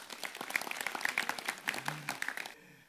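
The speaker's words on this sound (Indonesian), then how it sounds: "Jadi tepuk tangan sekali lagi untuk beliau." Audience applause at a village talk event, fairly faint and somewhat distant, with a cluster of individual claps rising and falling unevenly before cutting off abruptly near the end.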